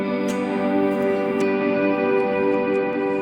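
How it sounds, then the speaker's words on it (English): Electric guitar plays sustained triad chords through a massive ambient tone, washes of reverb and echo ringing out steadily with a few softer plucked accents over about three seconds, no talking. "I can even have a massive ambient tone like this."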